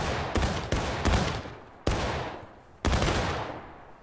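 Civil War musket return fire in War of Rights rings out as four separate booming shots or tight volleys spaced a second or so apart, each one sharp and loud before it decays into a lingering echo.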